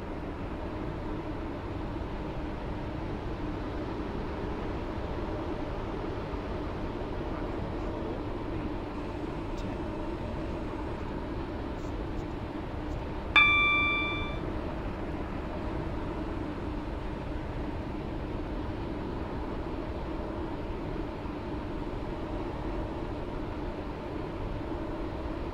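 A Waterline train on the James Street Line runs toward West Benton with a steady, low rumbling drone inside the carriage, broken midway by a brief tonal chime.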